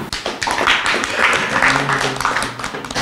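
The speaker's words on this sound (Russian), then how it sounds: "Эти бурные аплодисменты" Crowd applause as team players are introduced at a sports presentation: a fairly loud, dense burst of clapping lasting about three seconds, with a voice faintly underneath.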